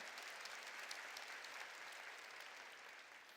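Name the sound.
congregation clapping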